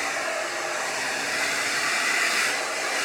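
A hair dryer on its cool setting runs continuously up close, blowing out resin paint, giving a steady, loud airy roar throughout with no talking.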